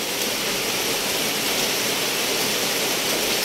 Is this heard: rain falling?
yes